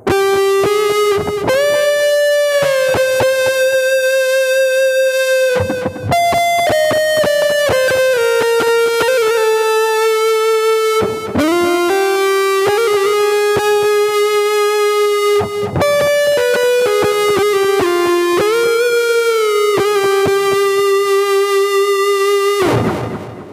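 Electric guitar through a Zoom G1X Four multi-effects pedal set for rock dangdut plays a series of sustained notes and bends, loud and continuous, with brief breaks between phrases.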